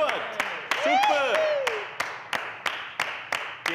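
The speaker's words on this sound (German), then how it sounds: "Die klatschen bloß, weil es der Kameramann gesagt hat." Scattered circus audience claps in a slow, steady rhythm, sharp individual hits spaced evenly, while a voice sings a sliding, wavering tone over the first half.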